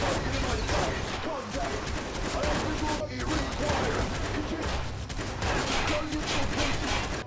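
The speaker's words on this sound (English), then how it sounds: "Shots fired at my location." Rapid bursts of gunfire from the video game Watch Dogs crackle almost without pause, loud and dense throughout, with a player's voice talking over the shooting.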